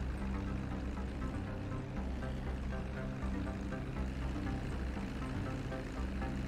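Propeller airplane engine in a flight video game during a landing approach, a steady loud droning hum with a low tonal rumble holding constant throughout, no speech.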